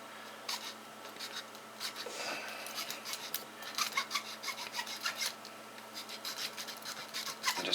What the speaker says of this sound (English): and just file down that